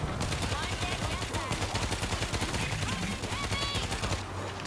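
Rapid automatic gunfire in the zombie shooter World War Z, dense continuous bursts of shots and impacts throughout, loud and close, with game noise layered underneath.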